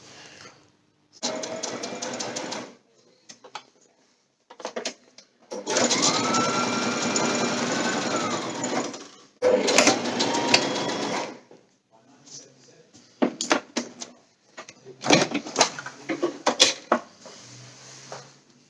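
A sewing machine stitches a synthetic top quilt foot box in several bursts, some long and some short, close and fairly loud, with quiet gaps and clicks of fabric handling in between.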